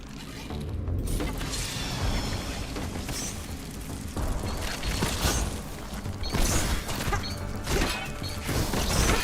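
A hammer in the video game Grounded 2 crashes and smashes against a bug enemy, dense, loud, continuous impacts and rumbling game effects throughout, no speech.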